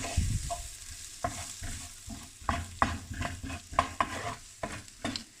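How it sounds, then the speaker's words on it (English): A spoon stirs spices into a simmering Indian curry, with repeated close scrapes and clacks over a soft bubbling sizzle in an irregular rhythm. "I'll add that to it and give that a stir"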